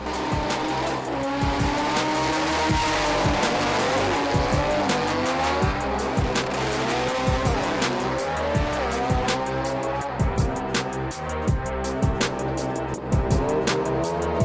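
A crazy 1300 wagon race car slides out of shape at a motorsport event, its engine revving hard while the tires squeal and skid continuously for several seconds, loud and close with no voices.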